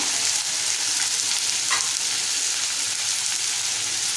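Cucumber bhaji with Malvani masala sizzles steadily in a pan while being stirred, a constant close frying hiss with a soft scrape of the spoon partway through, no voices.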